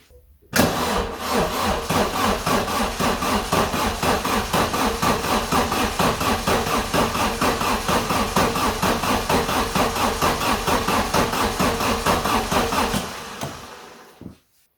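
A 1994 Vauxhall Astra GSi engine with low compression cranks on the starter during a compression test, a loud close rhythmic chugging that runs steadily for about twelve seconds before cutting off, no talking.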